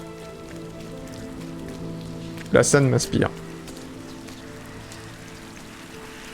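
Steady rain falls in the video game RiME, a constant wash of patter throughout, briefly overlaid by a short spoken phrase in the middle.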